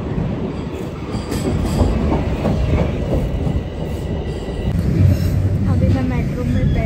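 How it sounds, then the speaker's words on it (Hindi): Cabin noise inside a moving metro train: a constant rumbling roar with rhythmic clickety-clack from the wheels and occasional squeals, loud and close throughout. "मेट्रो में बैठी हूँ, आई डोंट नो आवाज़ आ रही होगी या नहीं आ रही होगी"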